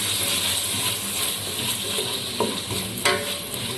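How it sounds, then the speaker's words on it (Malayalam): Tomatoes are stirred into a frying fish curry with a utensil in the pan, producing a continuous sizzle with a few sharp scraping clicks from the stirring near the end. "തക്കാളി ഇട്ടിട്ട് ഇങ്ങനെ ഇളക്കുക."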